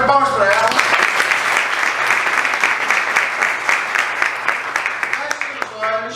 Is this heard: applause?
yes